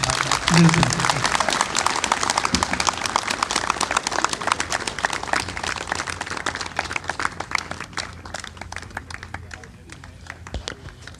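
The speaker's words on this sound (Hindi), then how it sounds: "सभी गांव निवासी जोरदार तालियों से उनका अभिवादन करें" Villagers at a panchayat swearing-in ceremony in Dhangar, Haryana, clap for the newly sworn sarpanch and panches, a loud burst of crowd applause that gradually thins and fades, with voices talking over it.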